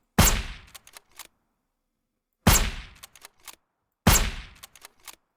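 Three loud gunshots in the zombie survival game Surroundead, spaced about two seconds apart, each a sharp bang followed by a quick flurry of smaller clicks and impacts, separated by silence.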